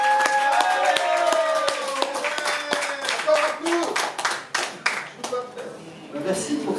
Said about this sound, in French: Merci pour ces applaudissements encourageants.